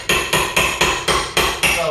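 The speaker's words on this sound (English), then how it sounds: "using the hammer back on my axe and the ball hammer, we're just going to strike it and chip out the wood as we go along" A hammer strikes the back of an axe head, chipping a groove into wood while shaping a Viking axe; seven sharp, evenly spaced metallic blows land about every quarter second, loud and close.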